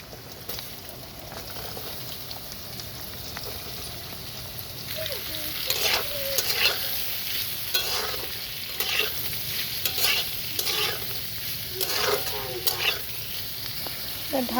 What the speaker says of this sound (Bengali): তেলটা গরম হয়ে গেলে আমি আলুটা ভেজে নেব।